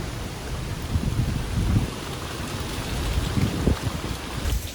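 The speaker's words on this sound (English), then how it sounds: "We are in Playa del Carmen, literally in the bullseye of Storm Gamma." Tropical Storm Gamma's wind and rain lashing Playa del Carmen on Mexico's Yucatan Peninsula, a steady broadband rush of gusting wind and rainfall with a few louder swells, no talking.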